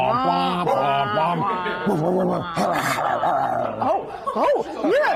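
A voice imitates a dog's growl, a continuous rough rumbling snarl with rising and falling pitch, close and loud.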